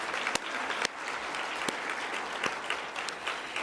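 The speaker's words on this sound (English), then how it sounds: "let's give a round of applause" Audience applause at a research forum's rapid-fire session, a steady wash of clapping with a few sharper individual claps standing out, fairly distant and even in level.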